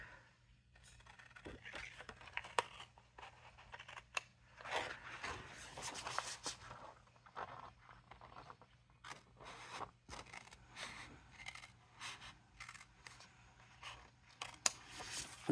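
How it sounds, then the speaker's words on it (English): Scissors cutting a square out of paper or card for a craft explosion box, with quiet, close snips and scraping crunches that come in irregular bursts, some pauses between cuts, and a faint background hum. "I'm going to take my scissors and I'm going to cut the square out."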